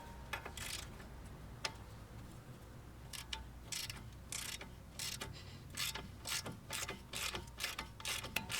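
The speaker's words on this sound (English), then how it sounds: "So here I'm using a cordless ratchet to finish taking off the bolt." Cordless ratchet backing a bolt off a Chevrolet Cruze sway bar end link, sounding as repeated bursts of rapid mechanical clicking and whirring, close and fairly loud, with short pauses between runs and no talk.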